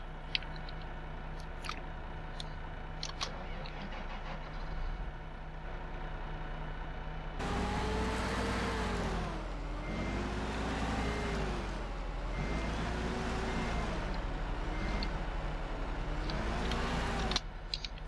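A tractor in Farming Simulator 2015 idles with a steady low engine drone, then revs up loud and steady with wavering pitch as it drives and reverses, faint clicks early on, no talk.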